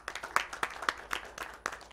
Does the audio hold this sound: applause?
yes